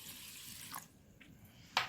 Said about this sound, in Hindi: एक बाउल में उसे डाल देना है और इसमें पानी डाल देना है भिगोने के लिए